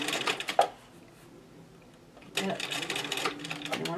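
A sewing machine stitches a ruffle onto a table runner in two bursts of dense rapid stitching, loud and close, separated by a quiet pause of nearly two seconds.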